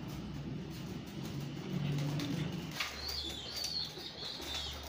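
Pigeons and squabs in a loft give soft, low cooing calls up close, with a brief flutter of wings and a few higher chirps later on.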